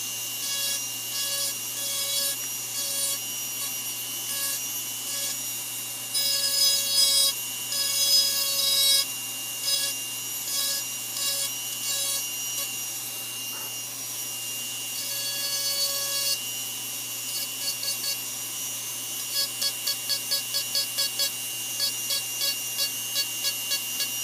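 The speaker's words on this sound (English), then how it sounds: "Carving a lot of wood away outside that little spike feather, and go back and define it some more." Close, repetitive scraping and rasping of a power carving tool working wood on a decorative blue heron, detailing feathers in steady strokes that grow into rapid short pulses toward the end.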